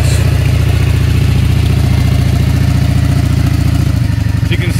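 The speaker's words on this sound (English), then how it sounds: "it's got a really nice exhaust note" Steady, loud close-up idle of a 2009 Yamaha V-Star 650 Classic motorcycle with a Hypercharger, its exhaust thumping in an even lumpy rhythm, with a slight change in tone near the end and no voices.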